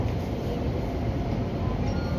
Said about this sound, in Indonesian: sudah tiba ini KRL dengan tujuan Cikarang